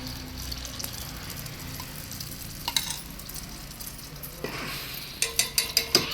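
Egg for a spoon omelette fries in a hot pan with a steady close sizzle, joined near the end by a run of quick rhythmic clinks from a utensil.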